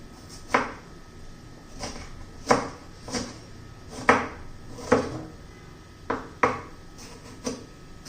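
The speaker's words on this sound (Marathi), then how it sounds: "आता आपण टोमॅटो चिरून घेऊया" Knife chopping tomatoes on a cutting board, about ten separate thuds at an irregular, unhurried pace, close and clear with no talking.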